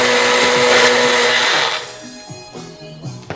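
A Magic Bullet blender whirs at full speed, blending sour cream and avocado into a sauce, a loud high motor roar for about two seconds that then drops away into sputtering as the blades slow.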